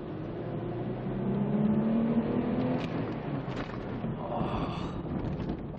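A second-generation Mercedes-Benz ML350 4matic SUV accelerating, its engine note climbing steadily under a continuous wash of road and wind noise, then settling as the run continues.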